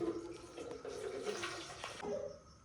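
About one and a half litres of water pours into a cooking pot for a beef nihari, producing a running, splashing flow at moderate distance that shifts in tone near the end.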